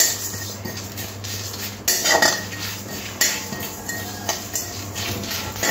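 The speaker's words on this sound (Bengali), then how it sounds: "সর্ষে পোস্ত খুব সুন্দর করে ভেজে নিয়েছি" Dried chillies, poppy and black mustard seeds dry roast in a wok, heard as repeated metallic scraping and clinking of a spatula against the pan under a steady background hum.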